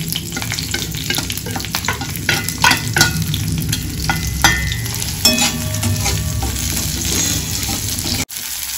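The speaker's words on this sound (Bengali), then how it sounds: "এই তেলের মধ্যে পেঁয়াজ আর লঙ্কা দিয়ে দেবো" Onion and chili hiss and crackle in hot oil close up, a dense continuous fry broken by frequent scrapes and knocks of a spatula stirring through the pan.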